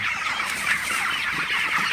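A flock of broiler chickens clucks steadily and closely, a dense, continuous chorus of overlapping calls with no pauses.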